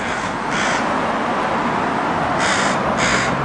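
Crows caw outdoors on a street corner in Vancouver, two pairs of harsh, loud calls rising over steady wind or traffic noise.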